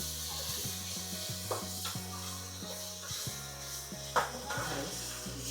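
Garlic and shallot paste sizzles in a pan while being cooked for Palakkad Ravuthar biryani, with steady frying hiss, occasional spoon scrapes and clinks against the pan, and a low hum underneath.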